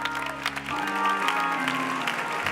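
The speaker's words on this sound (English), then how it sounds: "clap your hands for that" Applause from a church crowd at a Brooklyn tribute to Dr. Martin Luther King Jr. fills the clip with steady, dense clapping over sustained music.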